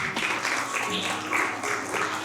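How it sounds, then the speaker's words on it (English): Workshop participants give a short round of applause, a brief burst of clapping from a small group, fairly close and uneven, lasting about two seconds. "give yourselves a round of applause"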